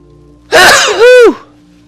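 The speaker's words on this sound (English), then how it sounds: "I'm about to sneeze, my apologies." A single loud, close human sneeze, a sharp breathy burst followed by a rising-falling tonal 'choo', in a quiet room.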